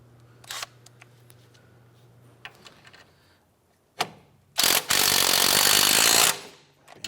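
A hand tool working a strut nut on the front spring and strut assembly of a 2005-2007 Ford 500, with scattered metallic clicks and taps followed by a sustained loud grinding burst of a couple of seconds.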